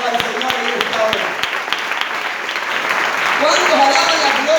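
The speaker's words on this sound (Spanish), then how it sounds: "Levanta tu mano y dale un aplauso poderoso al Señor en esta hora." A church congregation applauds the Lord during a Spanish-language sermon, a steady wash of clapping with a few sharp individual claps at the start, moderately loud and filling the room.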